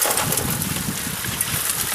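A water pump engine runs on a homemade three-stage electric high banker used for washing gravel, a steady, close, broadband rumbling drone with no talking.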